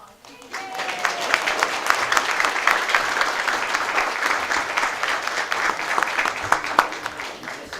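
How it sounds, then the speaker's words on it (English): Sustained audience applause fills a city council meeting after a group photo of participants, steady dense clapping with a few sharper claps standing out, close and loud, with faint voices underneath. "All right, big round of applause."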